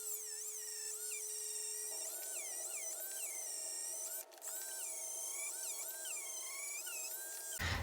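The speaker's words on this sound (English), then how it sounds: "to do that, we're going to use our rotary tool." A rotary tool whines at high, steady pitch while beveling the edge of an EVA craft foam piece for a Mandalorian chest armor build, continuous and close with slight pitch shifts under load, cutting off abruptly near the end.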